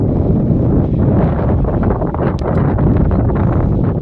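Strong wind on a rooftop roars steadily into the microphone, a loud, continuous rumbling buffet that never lets up, with a faint high tick or two in the middle.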